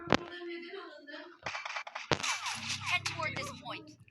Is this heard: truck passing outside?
no